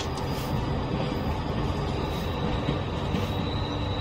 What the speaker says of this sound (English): You need to stop the train.